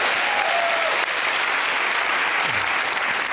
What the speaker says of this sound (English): Good round of applause